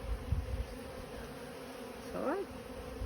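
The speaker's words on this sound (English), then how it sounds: "A lot of bees around." Bees fly around an Australian beehive during a March inspection, giving a faint, steady buzz with one individual bee sweeping close by near the end.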